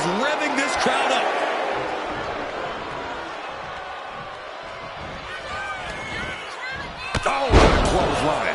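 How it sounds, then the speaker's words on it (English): A heavy clothesline impact in the WWE 2K25 wrestling video game lands as a loud, sharp slam near the end, following a stretch of crowd noise and scattered thuds under a commentator's voice. "Oh, what a clothesline."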